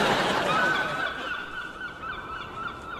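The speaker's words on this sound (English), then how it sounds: "Oh my God, the seagulls are circling." Seagulls circling overhead give off a loose flurry of harsh, overlapping calls and squawks, fairly loud at first and tapering slightly over three seconds, with no talking.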